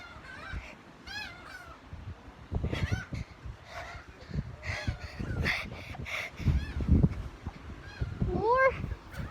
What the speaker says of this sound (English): But this is more of the birds.